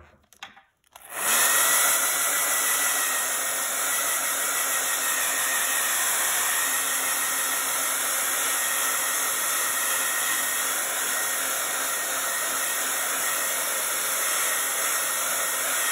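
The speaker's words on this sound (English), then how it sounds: "So I'm just gonna blast it quick with my blow dryer." A handheld blow dryer blasts over freshly applied red paint on a painted barn project, switching on after a brief quiet and then holding a loud, steady, close whir for the rest of the clip.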